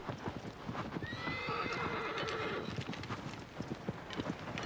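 Horse hooves in Shadow of the Colossus on PS4 clip-clop in a steady galloping rhythm, with a whinny rising partway through, close and fairly loud with no talk over it.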